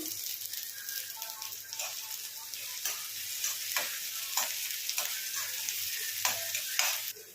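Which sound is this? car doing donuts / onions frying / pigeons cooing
onions frying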